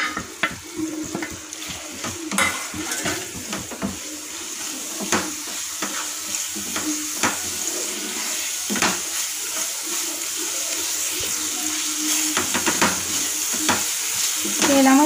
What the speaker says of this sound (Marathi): तेलामध्ये आपण मस्त आहे मसाले तळून घेऊ.